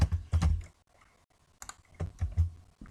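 Computer keyboard keys clatter while CSS code is typed, in close, loud clusters of quick keystrokes separated by a short pause, with no talking.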